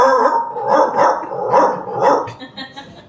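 A man imitates a brown bulldog barking with his voice, giving a series of loud, rhythmic gruff barks in close succession, near and alone.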